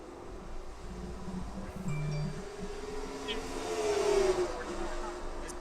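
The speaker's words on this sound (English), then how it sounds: "we're looking at the 44 Hot Wheels car getting passed by the monster car" Stock car race with cars roaring around the track, one car passing another, a steady engine drone rising toward a louder pass near the end, with commentary voices talking over it.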